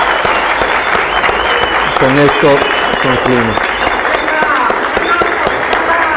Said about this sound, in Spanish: Les invito a dar un aplauso para cerrar este acto democrático